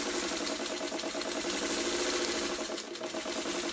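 A sewing machine stitches a quilt block for a Martha Washington Star pattern, its fast rhythmic whirring and needle clatter running steadily and up close throughout.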